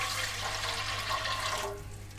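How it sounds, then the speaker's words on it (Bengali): A bowl of water, following ginger-garlic water, poured into hot oil for chicken biryani: a loud continuous rushing hiss and sizzle that fades slightly toward the end. "আরও এখানে দিয়ে দেবো আরও 1 বাটি জল।"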